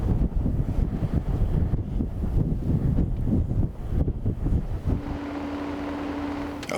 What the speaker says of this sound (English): Winds are blowing about 40 miles an hour